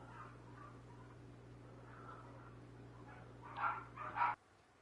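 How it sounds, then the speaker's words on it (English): Pet dogs give a few sharp yips and barks from another room, faint at first, then a quick cluster of louder barks before cutting off, over a steady background hum. "I muted myself because my dogs are going nuts"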